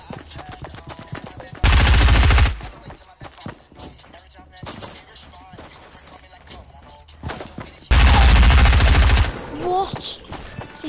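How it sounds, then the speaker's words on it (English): A shotgun fires in the video game Fortnite, with two loud heavy blasts separated by a quieter stretch of busy game sounds. "He's got a new shotgun."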